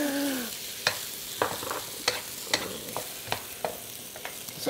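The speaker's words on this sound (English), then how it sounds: "So fry these all up here." Mixed vegetables frying in a wok give off a soft hiss, punctuated by about a dozen sharp clacks and scrapes of a utensil against the metal in an uneven rhythm, close up, with no one speaking.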